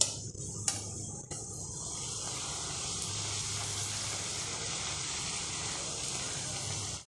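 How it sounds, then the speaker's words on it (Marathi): Spicy coconut puris deep-frying in hot oil on a slow to medium flame, a steady close sizzle and hiss with a few brief clicks at the start, continuing evenly until it cuts off. "स्लो टू मीडियम गॅसवर आपल्याला पुऱ्या तळायच्या आहेत."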